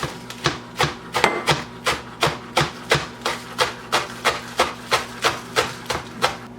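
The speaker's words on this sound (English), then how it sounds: "I'm just going to chop a little bit off the top of here to get out what I don't want." A chef's knife chops through a bunch of green onions on a cutting board in a steady, even series of about sixteen crisp thuds, close and fairly loud, with no voice over it.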